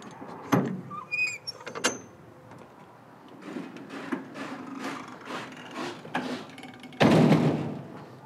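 A trailer door being unlatched and swung open on a trailer loaded with motorcycles: metallic clunks and rattles, a louder thump early on, a stretch of scraping and creaking, then a heavy, loud rumbling bang near the end, with no talking.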